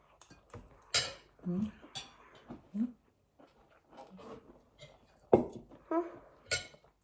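Metal spatula clinks and scrapes against a pan as phueng mushrooms are stir-fried in oil with oyster sauce, in scattered bursts with quieter gaps between and a voice heard now and then.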